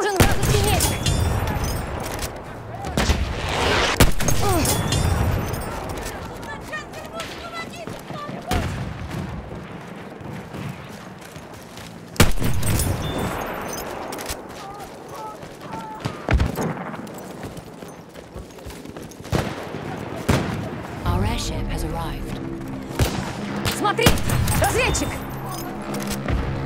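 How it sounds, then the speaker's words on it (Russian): Battlefield 1 gameplay carries bursts of machine-gun fire and scattered rifle shots, sharp loud cracks and rattling volleys that come and go over a battle backdrop, with in-game voices calling out at times. "Смотри, там пулемет!"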